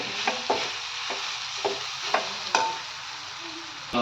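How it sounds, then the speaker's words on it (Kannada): Grated Magadi root frying with onion in a pan for chitranna gives a steady close sizzle, broken by several sharp scrapes and taps of a spoon stirring, with no talking. "ಇದೊಂದು 2 ನಿಮಿಷ ಫ್ರೈ ಆಗಲಿ"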